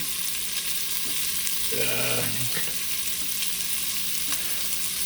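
Sausage and potatoes frying in an enamelware cast iron Dutch oven, a constant close sizzle with a brief scraping stir partway through, no one speaking.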